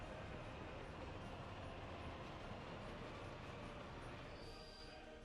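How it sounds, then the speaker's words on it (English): A train rolls along rails in the city-building game Workers & Resources, a steady dense rumble with faint clatter, quiet and continuous throughout with no talk. "Just going to follow the train round."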